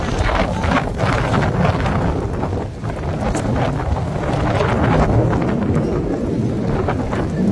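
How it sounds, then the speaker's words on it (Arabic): Strong wind and heavy rain in Makkah, a loud continuous roar of gusts buffeting the microphone with a dense wash of rainfall beneath, steady throughout with a brief dip in intensity midway. "هواء غزير وأمطار غزيرة ما شاء الله"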